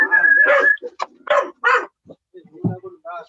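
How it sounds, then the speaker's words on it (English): A dog heard over a call gives short barks and yips with high whimpers between them, loud and near in broken bursts, with some faint voice sounds mixed in. "Is it your dog, Clive?"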